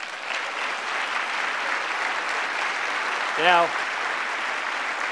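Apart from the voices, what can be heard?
audience applauding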